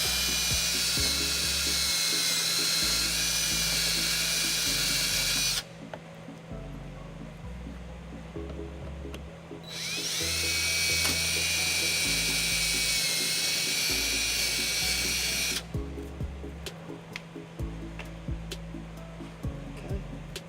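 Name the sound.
power drill drilling holes through a trailer hitch bracket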